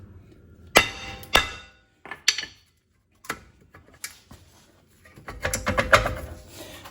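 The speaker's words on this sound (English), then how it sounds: "I'm going to go ahead and whack the back side of the rotor here to see if we can get it off of the hub" Hammer whacking the back side of a worn brake rotor on a 2016 Subaru Crosstrek to free it from the hub: sharp metallic clanks in an irregular series, about eight strikes, close and loud with quiet gaps between.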